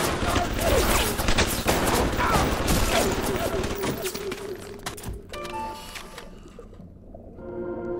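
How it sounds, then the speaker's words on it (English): Dense rapid gunfire in the video game Bioshock, with a loud continuous rattle of shots in the first half that fades into mechanical whirring and softer game sounds. "Where am I getting shot from?"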